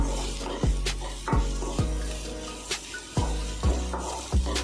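Okra frying in a pan with chilli powder and turmeric, a steady soft sizzle broken by several sharp scraping strokes of a spatula at a regular pace, no talking.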